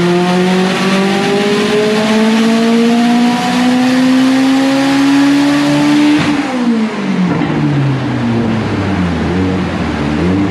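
Mitsubishi Evo X engine screaming on an all-wheel drive dyno during a peak power pull, loud and close, revs climbing steadily for several seconds before a sharp drop and falling whine.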